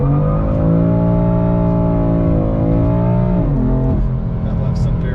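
A BMW M3 accelerating hard with tire-squealing launch: a loud, sustained engine drone climbs steadily, then drops in pitch as it shifts, close and continuous throughout.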